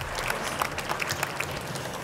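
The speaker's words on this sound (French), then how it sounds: "Je vous demande de l'applaudir également." Audience applause at a Paris e-marketing conference, a steady patter of clapping from a crowd with a few sharper claps standing out, moderately loud and unbroken for the whole moment.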